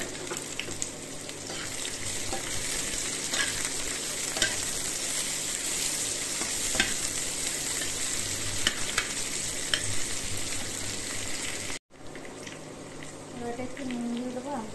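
Chopped onion and garlic sizzle steadily in hot oil in a wok, a loud continuous frying hiss with scattered spatters, briefly cut off near the end before resuming.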